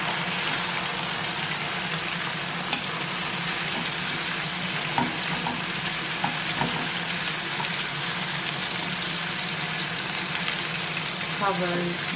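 Eggplant and little sausages sizzle in a pan as they are stirred, a steady loud frying hiss with occasional scraping clicks throughout.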